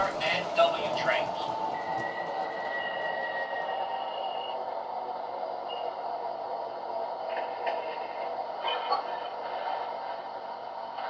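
An MTH model of an MTA R62 New York subway train produces a continuous electronic running sound with humming motor tones and faint chimes and beeps, steady and fairly close.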